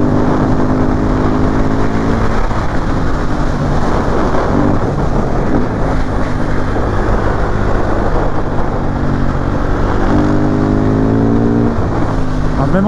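A KTM 690 SMC R supermoto, a 2020 A2-restricted model, is ridden through a curve. Its engine drones loudly and steadily for the whole stretch, with a continuous exhaust note that shifts pitch slightly as it rolls on and off.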